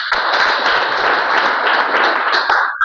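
A church congregation claps for Jesus during a sermon, a dense, loud burst of applause from many hands that carries on steadily for about three seconds.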